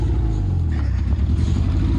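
A Honda CR-V engine rumbles loud and close as the throttle is pressed on a cold, rough ice surface, a heavy steady low drone that swells slightly.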